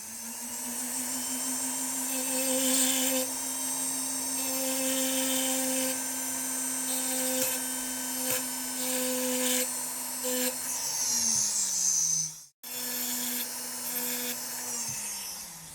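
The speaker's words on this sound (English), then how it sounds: "I've completed notching these prongs with the hart burr" Jeweller's handpiece with a hart burr notching prongs while setting a small geode, a steady high-pitched whine running close and continuously before winding down, cutting out briefly and starting again.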